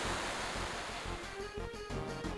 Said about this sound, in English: Huge tidal wave.